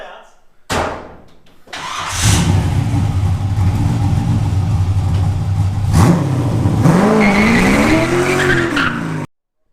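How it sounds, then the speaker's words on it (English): An LS-swapped Datsun 510 does a burnout, its V8 roaring up through loud, sustained revs with tire squeal and rising engine pitch before cutting off abruptly. "Nothing like burnouts."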